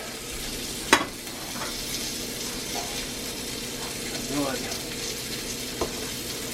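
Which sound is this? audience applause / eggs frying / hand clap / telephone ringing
eggs frying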